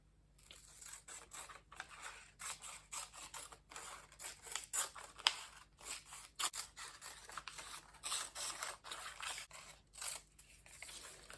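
Scissors snipping fabric fringes on a crop top, a long close series of crisp rhythmic cuts with brief pauses between strokes and no talking.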